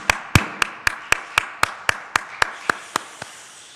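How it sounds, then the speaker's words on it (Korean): A church congregation at a Korean New Year's Eve service claps in thanks, about a dozen crisp, evenly spaced claps in unison that gradually soften and trail off. "우리 하나님께 감사의 박수를 올려드리겠습니다"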